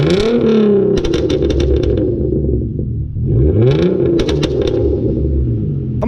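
A Genesis Coupe 3.8 V6 engine revs twice, each rise climbing loudly with crackling pops and rumble, then falling back to idle between revs, close and with no talking.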